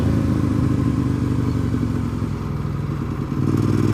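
Steady loud motorcycle engine drone while riding the Deals Gap road, a close continuous rumble with slight wind and rattle, no talk.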